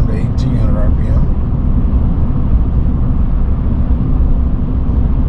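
A 2021 Chevy Silverado RST 1500 with the 3.0L Duramax diesel tows a 7,500 lb trailer downhill at about 1,800 RPM, a loud, steady low rumble of engine and road noise inside the cab, with someone talking briefly at the start.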